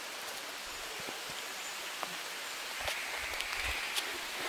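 Light rain starting to fall in the forest on a trek to Devkund Waterfall in Maharashtra, a soft steady hiss of drops with a few scattered pattering hits, no talking.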